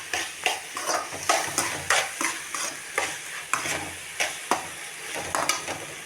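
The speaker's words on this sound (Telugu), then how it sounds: "ఇలా చికెన్ బాగా కలిపేస్తున్నాను." Chicken being stirred and fried in a pan, a continuous sizzle broken by a regular run of scraping spoon strokes against the metal, close and fairly loud, with no talk.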